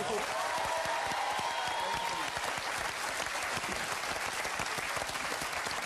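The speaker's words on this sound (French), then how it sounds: "Merci Michel, c'est vos applaudissements." A TV studio audience breaks into loud, sustained applause that fills the room throughout, with a host's voice briefly heard over the clapping near the start.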